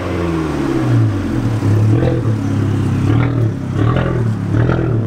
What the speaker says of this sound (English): It sounds like a Dodge Dart.